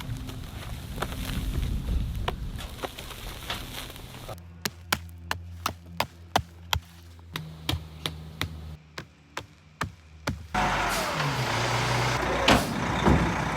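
Excavator plowing a driveway through forest toward an Alaska cabin site: engine rumble with a run of sharp, regular knocking impacts in the middle, then a louder, rougher churning roar near the end.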